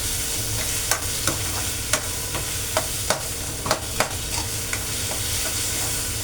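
Onions sizzle and fry in a pan for a tamarind curry sweetened with jaggery, a constant hiss broken by sharp, repeated scrapes and clacks of a spoon stirring every half second or so.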